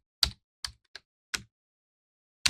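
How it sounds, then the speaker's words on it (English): A command is typed on a computer keyboard: five sharp, separate key clicks with uneven gaps, close and clear against silence. "I can do that by typing stop-vm"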